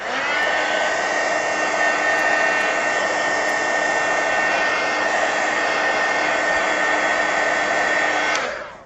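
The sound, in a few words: drying an artist trading card with a dryer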